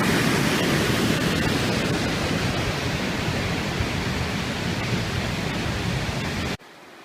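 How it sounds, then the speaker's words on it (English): A waterfall near Haines, Alaska roars as a dense, steady broadband rush close by, loud and unbroken for about six and a half seconds before it drops away abruptly. "that is a pretty good waterfall because I feel the ground shaking."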